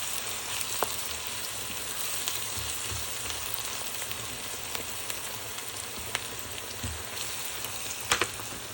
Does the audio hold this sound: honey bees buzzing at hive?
no